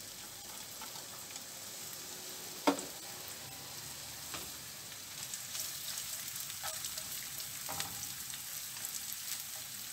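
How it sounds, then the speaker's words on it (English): Saltfish (salt codfish) frying with onions in a pan gives a steady, close sizzle and crackle throughout, with a few sharp pops and spatters standing out over the continuous hiss. "I'm gonna just cook up, fry up this saltfish, codfish."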